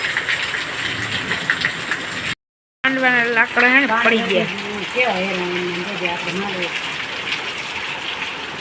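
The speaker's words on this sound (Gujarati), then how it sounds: "ધોધમાર ચાલુ છે જો વરસાદ" A heavy downpour drums steadily on a village, a dense rushing hiss filling the whole stretch, briefly cut off once, while someone talks over it nearby.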